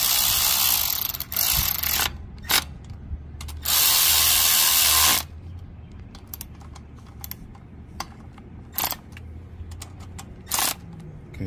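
A ratchet with an 8mm socket tightening a bolt on a 5HP Briggs & Stratton engine gives close, loud bursts of rapid clicking, some long and some short, separated by softer taps and handling noise.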